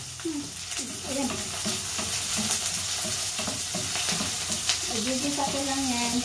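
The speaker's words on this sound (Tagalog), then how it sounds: "Igigisa ko lang yan." Bitter gourd omelette ingredients sauté in a hot pan, a steady broadband sizzle with repeated stirring scrapes, while a voice murmurs faintly beneath.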